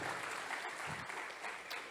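A church congregation applauds in a dense, steady roar of many hands, continuous and fairly loud throughout, with no pause.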